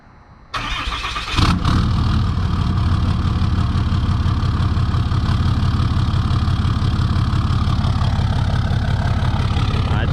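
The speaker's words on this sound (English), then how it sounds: "this truck sounds really, really good" A Duramax LB7 diesel truck cranks over from a cold start and settles into a steady, loud, close-up idle with a deep, even rumble that continues to the end.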